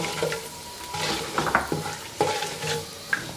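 Nigella and fenugreek seeds fry in hot oil for a mashed potato curry, giving a steady crackling sizzle broken by several sharp clinks and scrapes of a spoon stirring against the pan.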